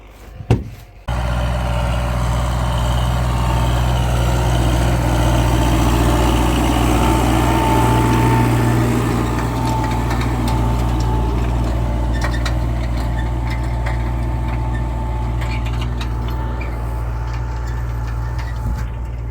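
After a short knock, a heavy tractor engine starts and runs steadily nearby on a farm field during winter wheat sowing, a low rumbling drone that continues throughout.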